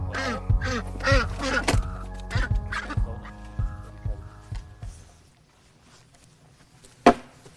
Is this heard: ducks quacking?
yes